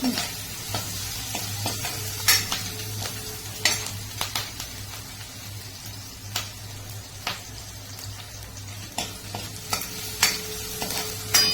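Onions frying in oil until brown, a steady close sizzle punctuated by frequent sharp spatula taps and stirring scrapes against the pan, no talking.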